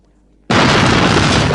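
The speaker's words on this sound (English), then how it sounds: "This is a Class 4 grenade." A Class 4 grenade explodes in a James Bond film scene: a sudden, very loud blast that erupts after near silence and holds as a dense, roaring wall of noise.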